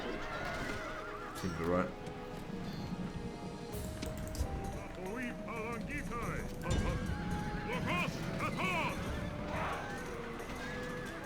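Horses whinny repeatedly amid the clatter of hooves in a Rome: Total War battle, several neighs rising over a busy mix of combat noise while someone talks over it.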